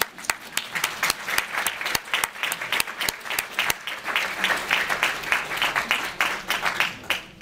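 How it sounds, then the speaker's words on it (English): Audience applause at a fundraising luncheon, a lively crowd of hand claps with crisp individual slaps standing out, close and sustained for several seconds without talk. "Okay, everybody a clap for Leo."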